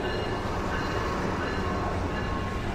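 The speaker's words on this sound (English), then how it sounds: "it's a bright line train coming by." A Brightline passenger train passing by, heard as a steady, dense rumble and rush that holds without a break from start to end at moderate distance, with no horn or voices.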